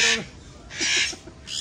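Eclectus parrots at a pet shop let out three harsh, loud squawks in short bursts separated by brief pauses, fairly close by.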